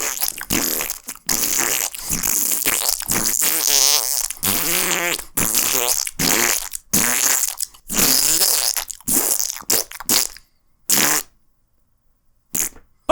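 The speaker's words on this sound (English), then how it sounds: "Fart noises, part 2." Rapid series of comedic fart noises, loud and close, coming in short bursts with brief gaps and ending in near silence; a game setting is implied.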